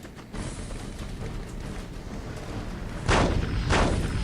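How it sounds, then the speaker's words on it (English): Basilisk cannons fire in the Warhammer 40K game Dawn of War: a steady battle din breaks into two heavy, loud booming blasts near the end, with no talk. "See how freaking nuts basilisk cannons are?"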